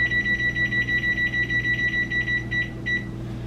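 A microwave oven beeps in a steady, rapid run of short electronic tones over a constant low hum, ending with a brief pause and one last beep, close and loud with no talking.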